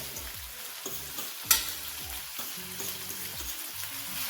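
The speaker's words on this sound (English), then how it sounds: "Add your scallion and your garlic and your onion to the pot so that it can fry up" Scallion, garlic and onion fry in oil in a pot for a Jamaican spinach corned beef hash, with a continuous close sizzle, repeated spoon scrapes and stirring knocks, and one sharper clatter midway.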